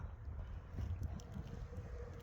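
Outdoor wind on a cold, overcast day rushes steadily across the microphone as a low, continuous rumbling buffet with no voices.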